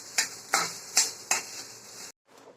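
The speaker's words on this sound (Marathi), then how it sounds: "तुपावर चांगलं परतून घ्यायचं आणि त्याचं पाण्याचा अंश निघून जाईल." Grated fresh coconut roasting in ghee in a pan for coconut barfi, stirred with a utensil: four evenly spaced scraping strokes over a soft sizzle, then a brief silence and a fainter last stir.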